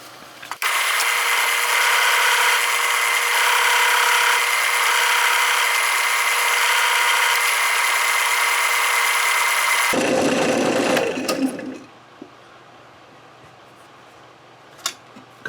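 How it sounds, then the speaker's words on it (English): A power drill bores into a segmented wooden pen blank with a loud, steady high-pitched whine for about ten seconds, then spins down and stops, leaving a quiet room with a faint click. "Now we can drill it."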